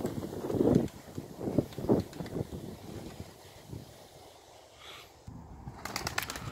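A tumbler pigeon flying with bursts of wing flapping, loud and close at first, then fading under wind and outdoor noise, with a few sharp claps near the end.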